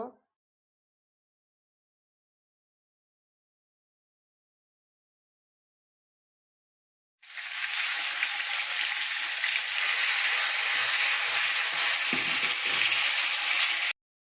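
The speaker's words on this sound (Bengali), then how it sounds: "পাশের চুলায় আমি তেলাপিয়া মাছ ভুনা করে নিচ্ছি।" Tilapia fish sizzles loudly in a pan on a stove, a steady bright frying hiss starting about halfway through after silence and continuing to the end, with no talking.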